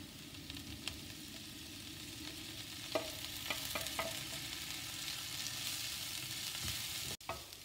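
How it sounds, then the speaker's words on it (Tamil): Raw banana is stirred into softened onions in a pan, a quiet, steady sizzle with scattered scraping taps of a spoon against the pan. "வெங்காயம் வதங்கிருச்சு, இப்போ இதில் இந்த வாழைக்காயை போட்டுடலாம்."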